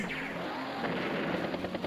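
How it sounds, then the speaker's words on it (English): Rapid gunfire from an aircraft carrier in the turn-based strategy game Advance Wars: Days of Ruin, a dense burst of loud, rattling shots that stays close and continuous for a couple of seconds. "aircraft carrier shooting down something"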